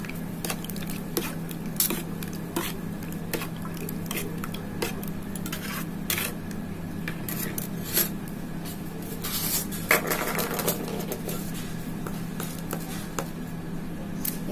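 A spoon stirs lemon mint water after two spoons of black salt go in, clinking repeatedly against the vessel in quick, close, fairly soft taps over a low steady background.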